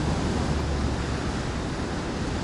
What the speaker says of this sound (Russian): хочу дать вам послушать шум моря.